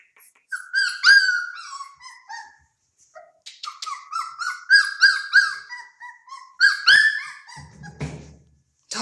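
A 31-day-old puppy indoors in a bathroom or bedroom gives a run of high, close whimpers, whines and yippy little barks in short bursts, ending with a soft thump.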